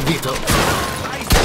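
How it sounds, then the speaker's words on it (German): Gunfire crackles in the Mafia II Definitive Edition video game, sharp loud reports amid a noisy shootout, with a voice shouting a name over the shots. "Sauberer Schuss."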